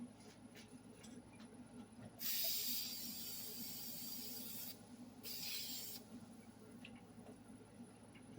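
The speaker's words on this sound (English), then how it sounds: "I'm just going to spray a little bit of lacquer on there" An aerosol can sprays lacquer onto a turned epoxy sphere in two loud, steady hissing bursts, the first about two and a half seconds long and the second a little over one second, set against a quiet workshop hum.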